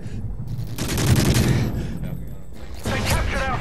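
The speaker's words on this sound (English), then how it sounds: "These kids are fucking shooting me through little cracks and walls" Dense enemy gunfire in an online capture-the-flag video game, a loud sustained burst of rapid shots and bursts with a short lull before another volley.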